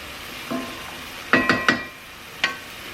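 Diced tomatoes cooking in a pan for pappardelle alla Bolognese give a faint, steady sizzle, broken by a few sharp clinks of a utensil against the pan.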